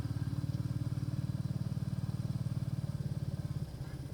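A motorcycle rides along a quiet country lane from High Casterton into Barbondale, its engine a steady, loud, close low throb that runs with even rhythm throughout and eases slightly near the end.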